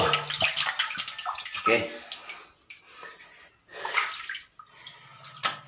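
Water streaming down into a deep hole about 18 feet deep at a dig site, a steady rushing, splashing flow heard close, with a voice speaking briefly over it.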